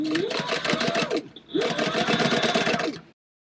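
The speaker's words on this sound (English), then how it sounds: "I've got a 3-stitch length and I'm just sewing across." A sewing machine top stitches across fabric for a trunk purse at a 3-stitch length, in two fast, loud, buzzing runs of needle strokes with a short pause between them, heard close up and with no voice.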